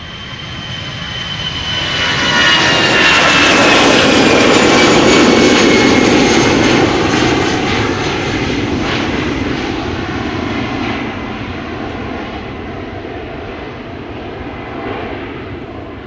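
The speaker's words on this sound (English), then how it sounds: "Triple 7-300 is indeed coming" A Boeing 777-300 jet at Amsterdam Schiphol Airport passes close by, its engine roar swelling loudly within the first few seconds with a high whine on top, then holding steady and slowly easing off as it moves away.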